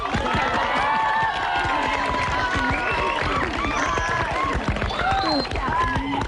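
A studio audience on a television game show claps in a dense, continuous patter, with excited voices and cheers mixed in throughout.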